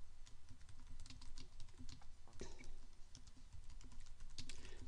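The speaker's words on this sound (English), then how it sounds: "So I'm just typing in the title of a song" Someone types on a computer keyboard, a song title going in through rapid, irregular clicks of keys, close and fairly quiet, over a low background hum.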